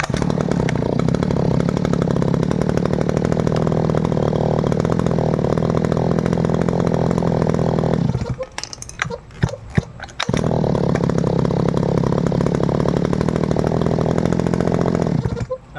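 A Robin NB411 brush cutter's two-stroke engine runs loud and close at a steady high idle, cuts out briefly with a few sputters midway, then restarts and keeps running to the end.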